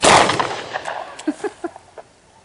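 A Ruger LCR revolver with a HiViz front sight fires at a range: one loud sharp report decays into echoing reverberation, and several fainter distant shots follow from the range.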